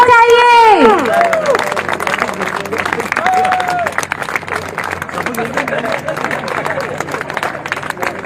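An audience at a stage programme claps in a sustained wash of applause with crowd murmur, following a loud brief musical tone at the start.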